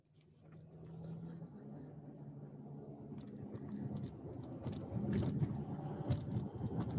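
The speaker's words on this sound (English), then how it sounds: "I'm driving around a precarious turn and curve here." Car engine and road noise while driving around a precarious curve, a steady mid-level hum that swells slightly toward the end, with no talk.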